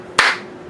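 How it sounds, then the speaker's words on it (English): A single sharp hand clap, close and crisp, ringing briefly before fading into a quiet room. "Clap your hands together."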